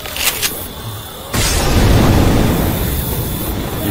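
A Molotov cocktail bursts into flames in the zombie shooter Left 4 Dead 2: a couple of faint clicks, then a sudden loud whooshing roar of fire that holds steady and close for several seconds.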